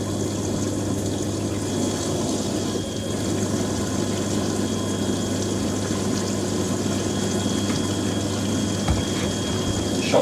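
An Indesit Ecosense 1196W washing machine pumps water during its cool-down phase on a 60ºC fast coloured programme, a steady low mechanical hum with watery churning running continuously throughout.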